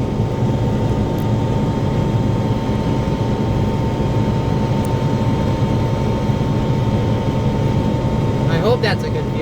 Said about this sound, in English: so you can watch more of what the chopper's doing.